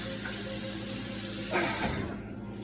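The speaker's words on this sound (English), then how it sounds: "be right back, wash my hands" Tap water runs steadily into a kitchen sink during hand washing, a close continuous splashing hiss that shifts briefly and then cuts off near the end.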